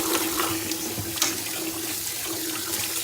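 Tap water runs steadily into a sink while corn hulls are rinsed for Native American corn soup, a continuous close splashing stream with a faint hum underneath.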